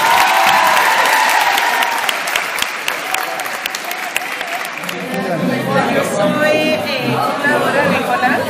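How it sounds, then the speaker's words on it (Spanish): A crowd applauds to welcome foreign volunteers at a SENA regional event in Magdalena, Colombia: dense, loud clapping that thins after a few seconds into scattered claps under rising chatter and talk. "Un fuerte aplauso para todos."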